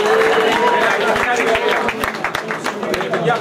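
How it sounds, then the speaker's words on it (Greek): Applause from a crowd at a teen bench press max-reps competition, dense clapping that runs steadily and thins toward the end, with voices mixed in. "Πολύ ένα χειροκρότημα για το Ράμο"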